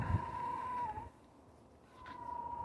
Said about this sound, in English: What the hell's wrong with that cat?